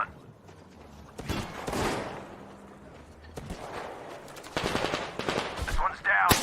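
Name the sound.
gunfire in video game Metro Exodus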